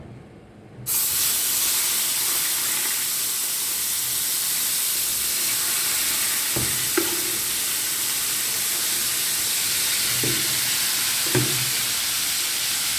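Pork and chicken fry in fish sauce, a loud hiss and sizzle bursting in abruptly and holding steady up close, broken by a few scraping stirs, no talk.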